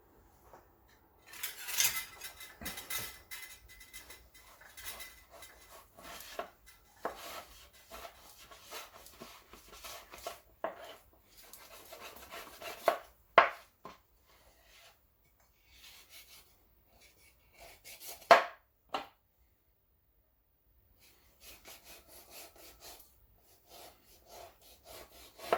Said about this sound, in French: je vais le découper en fines tranches et je les congèle après